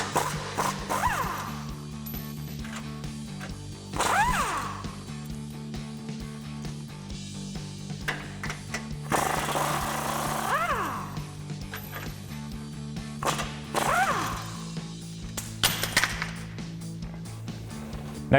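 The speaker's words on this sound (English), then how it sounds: "So I've got an 18mm socket to pop these out." A 2021-2024 Ford Bronco's sway bar nuts are worked loose with an 18mm socket: several sharp, sweeping mechanical bursts come in short clusters over a steady background hum, with quieter gaps between them.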